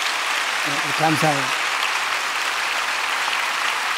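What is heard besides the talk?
church congregation applauding the choir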